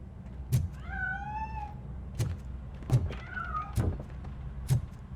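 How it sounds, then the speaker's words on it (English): A cat in the video game RoboCop: Rogue City gives two drawn-out, rising meows among several dull thumps and knocks, fairly close and clear with no talk. "That cat must be hiding inside."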